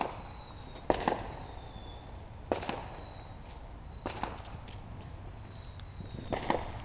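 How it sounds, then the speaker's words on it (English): Neighbors' Saturn battery fireworks go off at a distance outdoors, with a few sharp pops spread across the stretch and faint high whistling streaks drifting over a low background rumble. "Someone's doing Saturn battery, all that whistling."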